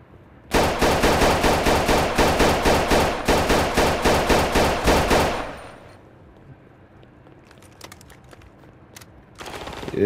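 Rapid automatic AK rifle fire in the Roblox game, a loud sustained burst of closely spaced shots lasting about five seconds, followed by quieter scattered clicks and a brief rising noise at the end.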